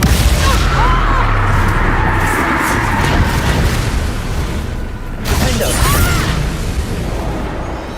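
Bombarda and Confringo spell explosions in the video game Hogwarts Legacy, a dense roaring stretch of booming blasts and bursts with a brief dip midway before another loud eruption.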